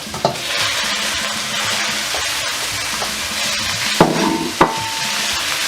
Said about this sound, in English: I want to stir fry the minced beef first with the onion.